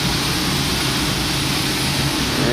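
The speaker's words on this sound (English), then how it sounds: "You can hear the APU, auxiliary power unit, running, making lots of noise" Auxiliary power unit on a Champion Air airliner at night on the ramp, a loud, steady, broadband roar with a low rumble, continuous and unchanging throughout, heard close by with no voices.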